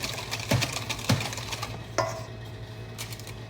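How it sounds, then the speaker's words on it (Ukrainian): A spoon stirs a dessert mixture with added sugar in a bowl, giving a few distinct scraping knocks against the container spaced about half a second apart, then quieter swirling. "Розмішуємо з цукром."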